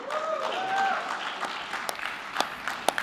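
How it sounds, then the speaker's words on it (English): Audience applause at a technology event, moderate clapping with a few sharp individual claps and brief tonal sounds near the start, under faint room noise. "Give them a round of applause one more time."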